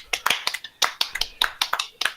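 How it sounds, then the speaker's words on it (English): Applause for a podcast guest comes as a short burst of close, crisp hand claps, about a dozen sharp smacks in an uneven rhythm with brief gaps between them. "give him a round of applause"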